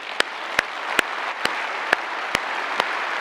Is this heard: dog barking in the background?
no